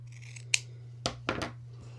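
Scissors snip quilt fabric scraps in a quiet room: one crisp cut and then a few quick closing snips, soft and close over a steady low hum.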